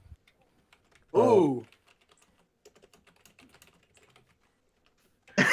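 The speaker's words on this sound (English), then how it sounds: "I love the typing you just hear." Light, quiet clicking of fingers typing on a computer keyboard, scattered irregular keystrokes that follow a brief loud vocal burst.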